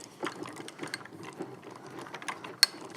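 Height screw on an adjustable pole for a BlastKing PLA12 powered line array speaker being tightened, a quick run of small ratcheting clicks and scrapes ending in one sharper snap, close and quiet.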